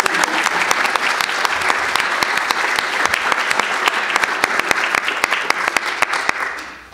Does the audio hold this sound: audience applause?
yes